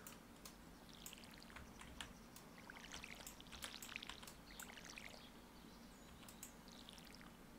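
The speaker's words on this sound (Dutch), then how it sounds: "En dan geven we het wat water." Soft splashing and pouring as plants are watered in the Stardew Valley farming game, a quiet trickle of water effects over a low steady background hum.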